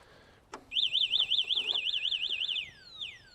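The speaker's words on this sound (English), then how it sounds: "as soon as I moved it, the alarm went off" A loud electronic anti-theft alarm on a Koppla Gator 5000W electric scooter wails in a fast warbling siren pattern for about two seconds, starting right after a short clunk as the scooter is moved and ending abruptly.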